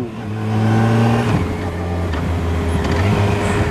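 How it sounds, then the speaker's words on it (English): A 2015 Yamaha FJR1300 motorcycle fitted with a Yamaha racing exhaust revs up loudly with a deep, steady drone, then shifts and keeps pulling with a rough, throaty rumble, heard close up. "Now this has a Yamaha racing exhaust on it and it sounds good."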